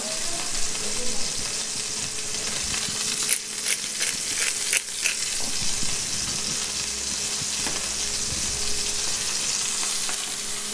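Veal saltimbocca searing in a hot pan, a steady close sizzle with a few sharp clicks and scrapes of a utensil early on.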